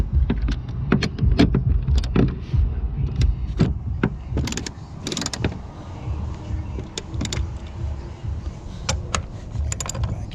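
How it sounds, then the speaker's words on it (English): Ratchet with an 18mm socket on a 1/2-inch drive and a 3/8 adapter snugging a bolt on a 2017 Dodge Ram, with close, rapid clicking runs and metallic taps in short bursts. "I'm just using the 18mm on the 1/2" socket drive here with I got a 3/8 adapter just to snug this down."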